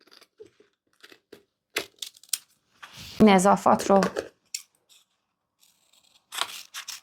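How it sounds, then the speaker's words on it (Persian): Scissors snip through fabric at the shoulder seam of a garment during sewing, a cluster of crisp cutting clicks in the middle alongside sparse rustling and a short spoken phrase. "پس حالا میام از محل سرشانه ها این رو قیچی میکنم"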